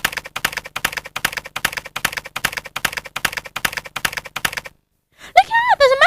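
Computer keyboard keys clatter in a fast, steady stream of close, crisp clicks for several seconds, then stop abruptly before a voice begins speaking.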